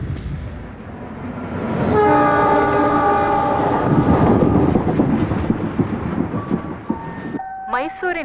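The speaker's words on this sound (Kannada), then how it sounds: "ಮೈಸೂರಿನಿಂದ ಬರುತ್ತಿರುವ ಪ್ಯಾಸೆಂಜರ್ ಟ್ರೈನ್ ಇನ್ನೇನು ಕೆಲವೇ ನಿಮಿಷಗಳಲ್ಲಿ ಪ್ಲಾಟ್ಫಾರ್ಮ್ ನಂಬರ್ 6ಕ್ಕೆ ಬರಲಿದೆ" A passenger train rolls into a railway station platform with a loud, sustained rumble and a long horn blast, wheels clattering as it passes close by, followed by a short voice at the end.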